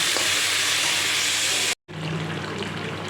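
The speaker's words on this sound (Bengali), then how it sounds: "কালো গুঁড়ো ফোড়ন দিয়ে আলুটাও ভাজা বসিয়ে দিয়েছি" Potatoes frying in hot oil tempered with black cumin, giving a loud, steady hiss and sizzle that cuts out briefly for a moment, then resumes close up and continuous.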